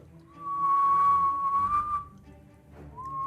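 A person whistles a single sustained steady tone for about a second and a half, then a brief rising whistle follows near the end, heard clearly and close with faint background noise.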